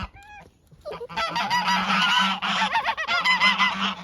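Several geese, including an aggressive gander, honk loudly and close, overlapping nasal calls in a noisy chorus after a brief quieter call at the start.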